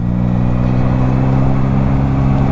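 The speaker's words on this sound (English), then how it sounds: "This engine does have a lot more character." A Yamaha MT-09 motorcycle engine runs at a steady idle, a loud close low rumble with constant throbbing.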